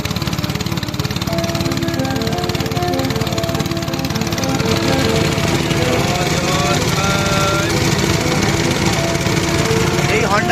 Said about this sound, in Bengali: মেশিনে মোটামুটি পাঁচ মিনিট লাগবে জল উঠতে